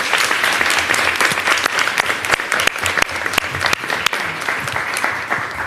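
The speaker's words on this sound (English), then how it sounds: "Let's give her a big round of applause." Loud, sustained applause from an audience at a mayoral education announcement, with dense, even clapping and crisp individual claps standing out throughout.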